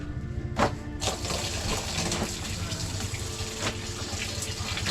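Water runs from a tap and splashes into a basin, with a couple of soft thumps near the start.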